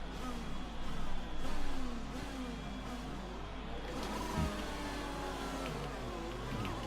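F1 car in the F1 2020 game, Dutch Grand Prix, launching from its grid spot at race start: a steady loud engine roar with rising revs, a brief surge early on, continuing as a constant mid-pitched whine.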